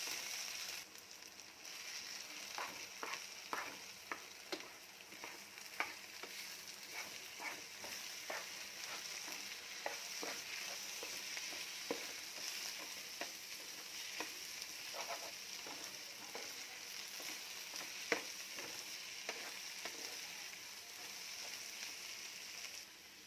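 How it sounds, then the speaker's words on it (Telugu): Spring onion egg curry sizzles steadily in a frying pan while a spoon stirs it, making a run of sharp, irregular scraping clicks against the pan over a constant hiss. "ఇప్పుడు కలపాలండి."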